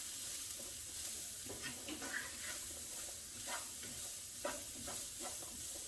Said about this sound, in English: So let's get this stirred up.